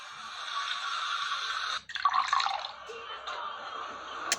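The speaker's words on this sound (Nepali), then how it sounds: "Alright, so I just got this new bidet right here." Water from a newly installed bidet hisses and drips steadily, cutting off briefly and then surging back in a louder spray before settling into a continuous, close flow.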